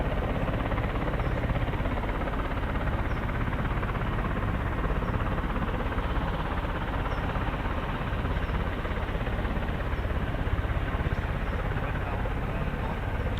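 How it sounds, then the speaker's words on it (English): A CV-22 Osprey tiltrotor's engines start up at an RAF airbase, producing a steady, dense roar that holds evenly for the whole stretch with no clear breaks. "It's our CV-22 Osprey has just started up as well"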